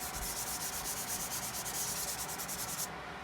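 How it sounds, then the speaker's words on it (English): Sandpaper rubbed over the aerosol-sprayed finish of a Wilkinson Telecaster kit guitar body, a steady close scratching in rapid back-and-forth strokes that runs continuously, then stops abruptly near the end. "Making sure that I don't have any balled up finish on this sandpaper."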